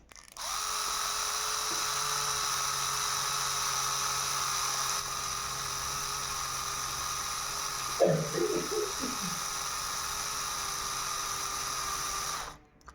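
A small, worn drill bit boring into a Victorinox pen-holder part, a steady high-pitched whine from a small rotary drill running continuously and close, with a brief rattling burst partway through.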